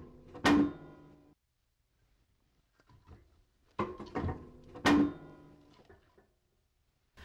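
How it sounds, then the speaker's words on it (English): Wood stove door being shut: a sharp metallic clank, then softer knocks and a second clank a few seconds later, close and clear in a quiet room. "Now I close the door and set the air control to fully open."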